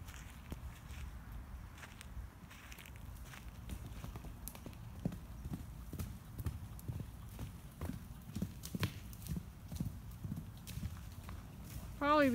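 Steady clip-clop of a mule's hooves while someone rides her, close and continuous, with people talking throughout and a brief squeal near the end.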